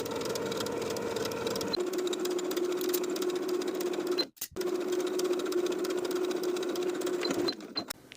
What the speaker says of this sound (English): edge stitch close to the bottom inner fold of the bias tape with about 1/8 of an inch seam allowance all the way around the